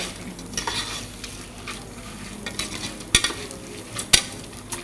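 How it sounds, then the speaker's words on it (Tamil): Whole spices are dry-roasted in a pan while a spoon stirs and scrapes them, giving a close, continuous rustling with a few sharp metallic clinks. "இதை நல்ல வாசனை வர வரையிலும் நம்ம வந்து வறுக்கணும்"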